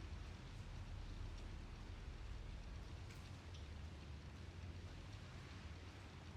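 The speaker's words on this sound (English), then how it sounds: "All your attention on the sound of the rain" Steady rain falls in a continuous, even hiss with a low rumble beneath it, unbroken and quite faint throughout.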